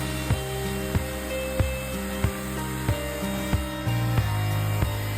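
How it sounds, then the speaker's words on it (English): A jigsaw cuts a circle out of teak wood with a steady buzzing drone, while sharp knocks or strokes recur about every half second and the tone shifts lower near the end. "Cut the circle shape with a jigsaw."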